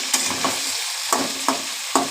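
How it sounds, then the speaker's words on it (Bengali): Onion, potato and young jackfruit frying together in a pan, stirred in several scraping strokes that punctuate a steady close sizzle. "একসাথে নাড়বো ভাজা ভাজা করে নেবো পেঁয়াজ আলু আর তোমার এঁচো সব একসঙ্গে ভেজে নিতে হবে"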